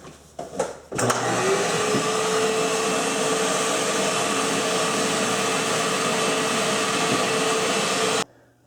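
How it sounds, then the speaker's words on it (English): A vacuum cleaner roars steadily at close range for about seven seconds as it cleans plywood before granite countertop slabs are laid, switching on after a few brief knocks and cutting off abruptly near the end. "vacuum all of this plywood so there's no debris under there"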